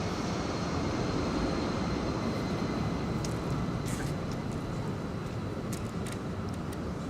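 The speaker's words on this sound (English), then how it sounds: "As a plane takes off from the very nearby airport." An airplane taking off from a very nearby airport gives a constant, broad roar that fills the whole clip at an even level, with faint higher tones and a few brief clicks on top.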